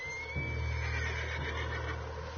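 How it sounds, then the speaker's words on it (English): A horse whinnies in a drawn-out neigh in the game Red Dead Redemption over a low steady hum, with no one speaking. "What's wrong with this horse?"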